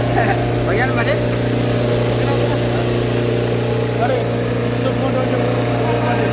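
A newly built hammer mill's engine runs steadily and loud at close range, a constant droning hum with people talking over it.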